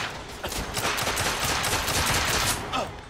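Rapid bursts of video game gunfire, including pistol shots, crackle loud and close in a short, dense volley that fades near the end.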